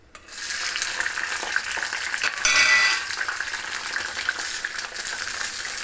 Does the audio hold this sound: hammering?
no